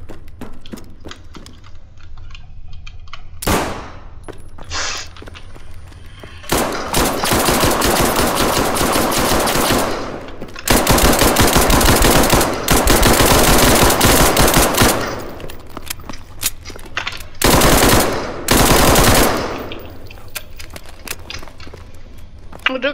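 Automatic gunfire in the video game SCP 5K comes as long, loud, dense bursts of rapid shots, separated by short pauses with quieter clicks and game sounds.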